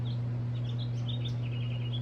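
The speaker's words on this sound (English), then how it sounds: "I just love hearing the little birds." Small birds singing outdoors in a vegetable garden on a sunny day, faint repeated chirps and short trills over a steady low hum.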